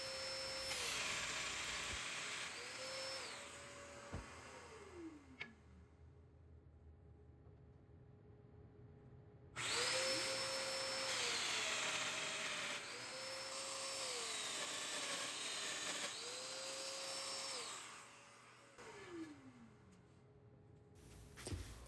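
A Festool Domino joiner cuts mortises into wooden table apron boards in several bursts of whining motor, each starting and stopping abruptly with quiet gaps between them, sounding moderately close.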